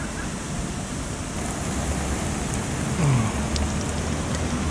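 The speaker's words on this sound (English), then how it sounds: "And this is our water test." Water spraying against a double-thickness brick and limestone wall of a historic dome during a water test, a steady close hiss like heavy rain, unbroken throughout.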